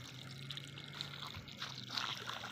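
Water pumped by a motor pours and trickles across a flat concrete roof, a steady close splashing flow with a faint low hum beneath it.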